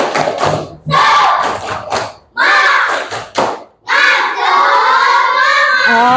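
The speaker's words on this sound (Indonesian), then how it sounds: "Oke, tepuk semangat sekali lagi." Children at an Indonesian school doing a tepuk semangat clapping chant, shouting rhythmic syllables in unison with claps; loud, close group voices in bursts with short pauses, ending in a drawn-out collective shout.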